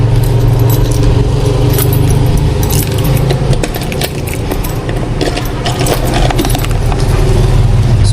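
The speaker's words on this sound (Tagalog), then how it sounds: "Susi sa likod kailangan ko para mabuksan." Keys jangling near a gym door as it is being unlocked, a loud, busy metallic rattle with scattered clinks over a steady low hum, continuing throughout.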